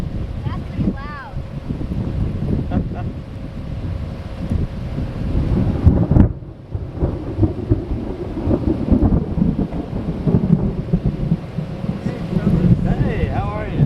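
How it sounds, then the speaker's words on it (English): Thunder rumbles through a Texas hailstorm, a continuous low roar with wind buffeting the microphone and rain underneath, while people talk and exclaim over it throughout. "Here's some thunder there."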